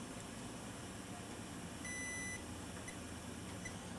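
A digital multimeter set to diode mode gives a steady electronic tone, clearer for about half a second in the middle, while probing a shorted diode on a Nintendo Switch Lite board, over a constant background hiss.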